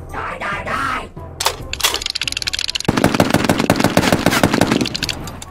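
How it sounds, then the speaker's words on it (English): Skaven rattling gun team opening up in a tabletop battle, a loud, rapid rattle of machine-gun bursts that starts after a few sharp cracks and keeps hammering steadily to the end. "Next to fire was a rattling gun team that was accompanying Rat Warrior's unit"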